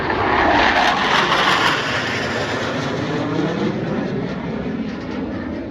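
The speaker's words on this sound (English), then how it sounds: "From behind the spectator area, Blue Angels 5 and 6 are approaching the flight line" Blue Angels jets 5 and 6 approach the flight line at an air show with a loud, continuous broadband roar that is strongest early on and holds steady as they pass.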